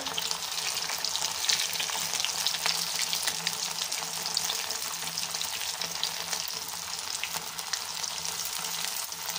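Sabudana vada crackle and sizzle in hot oil with a continuous bright frying hiss, close and steady, with occasional louder pops and no talking.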